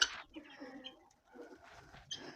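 Quiet, close clucking and soft cooing from chickens in a village yard on a morning, a few short calls spaced out with brief pauses.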